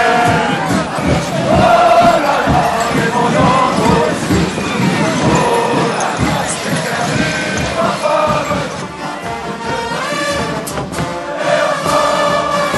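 A dense carnival crowd during the chahut crush, loud continuous shouting, cheering and jostling voices packed close together, with clinks and thuds in the throng.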